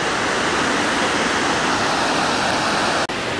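Tvinde waterfall roars as a loud, steady, broadband rush of falling water, continuous and close with no pauses.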